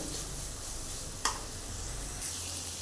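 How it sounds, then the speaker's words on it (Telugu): Curry leaves, ginger-garlic paste, salt and turmeric fry in a pan for a chicken curry. A soft, steady sizzle carries a single sharp utensil clink partway through. "కొద్దిగా పసుపు వేసుకుందామండి. ఇలా ఫ్రై చేసుకోవాలి."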